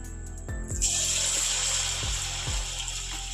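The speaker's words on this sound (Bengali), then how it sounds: "তেলটা বেশ ভালো করে গরম করে নিয়েছি গ্যাসের আঁচটা কমিয়ে দিয়েছি এরপর এগুলোকে ভেজে নিচ্ছি" Chicken pakoras fry in hot oil over a lowered gas flame, breaking into a bright, continuous sizzle after a few soft knocks, with occasional thumps beneath the steady close crackle.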